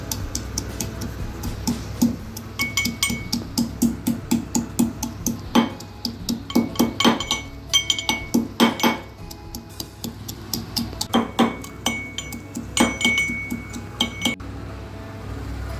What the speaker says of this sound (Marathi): खलबत्त्यात 7-8 लसणाच्या पाकळ्या, 2-3 अद्रकचे तुकडे बारीक ठेचून घेऊ